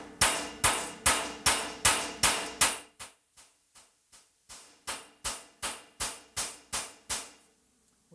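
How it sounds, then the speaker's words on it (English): A hammer strikes a TIG weld seam held against a dolly, about sixteen sharp metallic blows at a brisk, even rhythm: a loud first group, a few softer taps, then another firm run, heard close with no talk. "you're going to want to hit right on the weld there like this."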